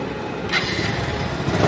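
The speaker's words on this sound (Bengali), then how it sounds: "এখন আপনাদেরকে বাইকটার স্টার্ট দিয়ে সাউন্ড কোয়ালিটি দেখাবো" A 2022 Bajaj Pulsar 150 ABS motorcycle starts up, with a sudden burst of engine noise about halfway through settling into a steady idle over a murmur of background noise.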